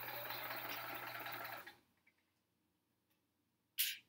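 A sewing machine stitching a quilt top runs in a steady close whir for about a second and a half, then stops, leaving near silence broken by a faint tick and a brief sharp burst near the end.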